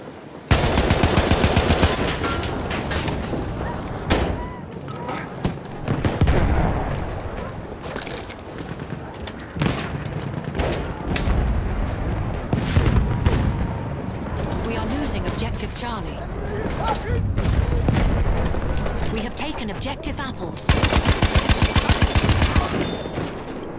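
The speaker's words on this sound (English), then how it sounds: "Enemy machine gun sighted." Machine gun fire in the Battlefield 1 video game, rapid bursts and heavy gunfire swelling and fading over the round, with in-game voices calling out between shots.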